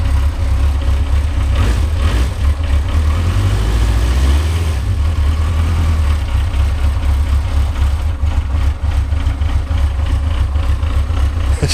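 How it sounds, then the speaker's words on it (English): Yamaha XJ900F motorcycle engine ticking over at idle on its first run of the year, a loud, close, steady low rumble with a slight uneven pulse, running alone without speech. "It's just ticking over at about 200 revs a minute there."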